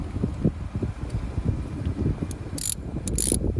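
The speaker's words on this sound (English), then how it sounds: "Throw your bolt back in there, tighten it down with a 10mm" A ratchet tightens a 10mm bolt on a Toyota Camry engine, producing a quick run of close mechanical clicks with a few sharper metallic ticks near the end.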